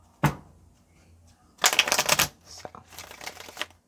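Tarot cards being shuffled close up in a few quick riffling bursts, separated by quiet gaps, with a person briefly speaking at the start.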